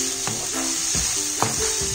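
Onions for poha sizzle steadily in a hot pan under a constant hiss, with a few soft clinks and scrapes of stirring on top and no talking.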